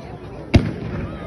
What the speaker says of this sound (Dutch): Een vette 50 mm mine van Magnum vuurwerk.